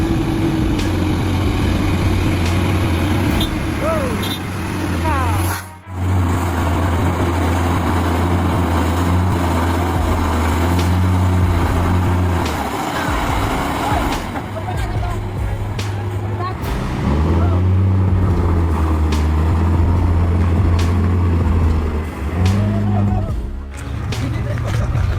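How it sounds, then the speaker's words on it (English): A Hino 500 coal truck's diesel engine labours, stuck in a deep mud puddle, droning steadily and loudly with revving surges and shifts in pitch throughout. "a Hino 500 coal truck faced a dramatic situation when it got stuck in a deep mud puddle, unable to get out on its own"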